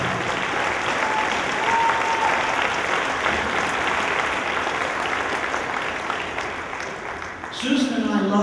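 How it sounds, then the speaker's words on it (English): A dinner audience at a police activities league fundraiser auction gives a warm round of applause, dense steady clapping filling the room throughout, with a voice briefly audible near the end. "give them a round of applause"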